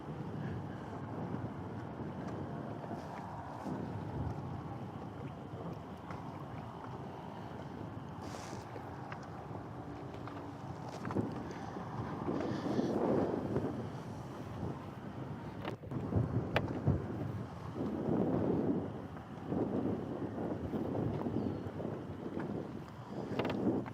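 Heavy wind gusting across Lake Guntersville during a bass fishing tournament, a steady roaring rush with mic buffeting that swells louder in the second half, with boat and water noise underneath.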